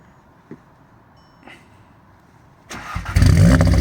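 A 2015 Audi S1 is started with the key: after a quiet lull with a couple of faint clicks, the starter catches and the engine fires up loudly near the end, settling into a strong, close idle.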